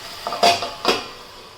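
A metal lid clanks twice onto a kadai in a home kitchen, where salt, turmeric and green chillies have just gone in with eggs. The clatters are close, brief and spaced about half a second apart.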